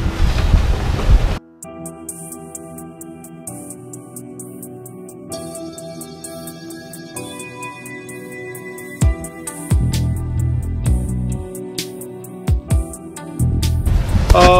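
Steady wind gusting to 17-18 knots rushes over open sea on a sailing passage from Martinique to Carriacou, with surging gusts and splashing waves, loud and close against a microphone, no voices.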